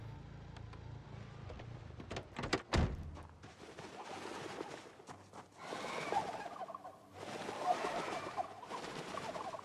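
Turkey gobbling in the survival video game Project Zomboid, several bursts of rough bird calls with clatter and game ambience, no talk.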